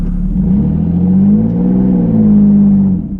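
A Suzuki XL-7 engine revs hard and steadily in 4 low while its wheels spin without grip, a loud, close drone holding for about three seconds before easing off.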